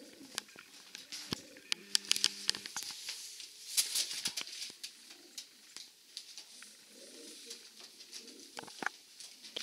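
Breeding pigeons coo softly in a loft, low murmuring calls repeating amid sharp clicks, taps and wing flutters nearby.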